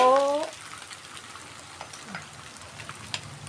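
Egg fried rice with carrot, hot dog, onion and fresh chili is stir-fried in a pan, giving a soft, steady sizzle with occasional light scrapes; a brief voice is heard at the very start.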